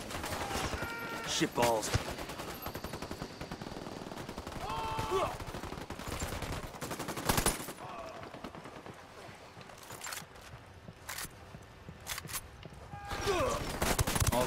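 Gunfire in Ghost Recon Wildlands comes as repeated bursts of shots and sharp cracks spread across the stretch, some loud and some more distant. A voice speaks briefly.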